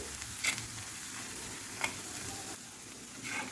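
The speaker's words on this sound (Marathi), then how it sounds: "खोबरं पण आपण कांद्यासोबत मस्त फ्राय करून घेऊ" Grated coconut frying with onion in a pan for street-style tawa egg masala, giving a steady close sizzle with a few soft scraping stirs and no talking.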